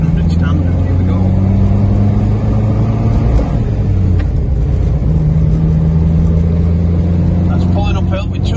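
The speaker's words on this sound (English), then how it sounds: "That's pulling uphill with 2 of us on board. Only up into 3rd gear and we're already at 40 miles an hour." A 1957 MG Magnette ZB saloon fitted with a 1622cc MGA engine pulls uphill in third gear with two aboard at about 40 mph, its loud, steady droning engine note sustained up close throughout.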